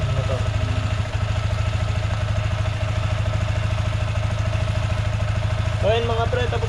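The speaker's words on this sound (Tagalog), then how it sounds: "Painitin lang natin ng konti ng motor." A Sniper 155 motorcycle engine idles steadily to warm up, a loud, even low throb with a faint clatter, and brief talk near the end.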